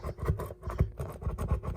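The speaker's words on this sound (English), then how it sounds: "You can just hear those coils in there rustling around." Soft scratchy rustling rattles in quick irregular bursts as loose coils shift inside a blown 15-inch subwoofer, close and fairly quiet.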